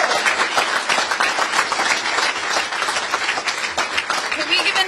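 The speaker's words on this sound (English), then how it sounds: "Can we give another round of applause, please" Crowd at a political rally in San Francisco clapping and applauding steadily, a dense wash of many hands filling the space, with voices mixed in underneath.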